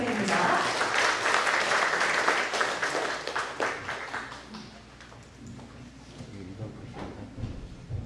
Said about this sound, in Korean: 앞으로 나오실 때 여러분 큰 박수 부탁드립니다